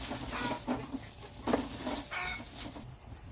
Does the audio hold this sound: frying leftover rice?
no